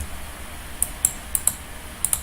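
Keys pressed on a computer keyboard for the Ctrl T shortcut in Photoshop give about seven sharp, close clicks in uneven pairs over low background hiss.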